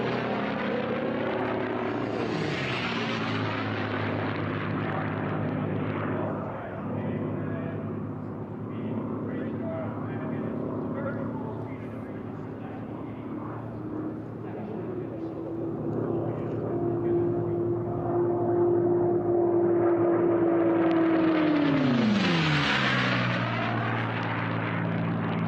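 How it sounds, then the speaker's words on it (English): A racing aircraft powered by a Packard-built Rolls-Royce Merlin engine roars past at the 2023 National Championship Air Races. Its loud, steady propeller drone builds, then drops sharply in pitch as it passes close by. "Rolls-Royce Merlin, license built in the U.S. by the Packard Corporation, but there it is."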